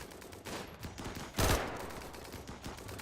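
Gunfire in the RimWorld video game sounds as a faint stream of small crackling shots, with one louder blast standing out midway, and no voices over it.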